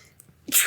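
A single quick sneeze, sharp and bright, following a brief soft intake of breath, close by.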